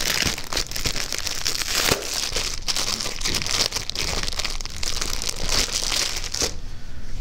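Small paper note cards being handled, giving steady close crinkling and rustling with a few sharper crisp snaps throughout, no voices.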